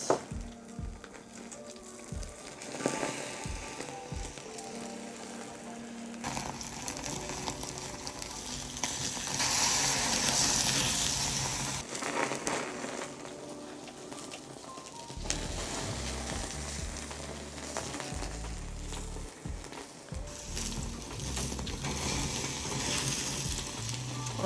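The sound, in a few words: campfire burning while food cooks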